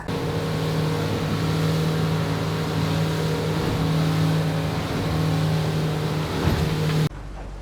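A fishing boat's motor drones steadily as the boat runs through rough, choppy sea off California's northern coast, with a constant loud hum and wind and water noise that cuts off abruptly near the end.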